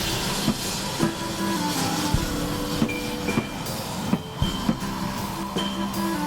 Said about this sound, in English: Our locomotive for today is the Great Western Railway Prairie Tank Engine